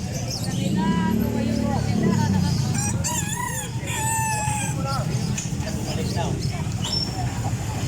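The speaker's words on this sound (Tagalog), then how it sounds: "Ito yung mga bentahan ng mga manok dito." Chickens cluck and a rooster crows amid a busy crowd at a live poultry and bird market, with people talking underneath and general market bustle.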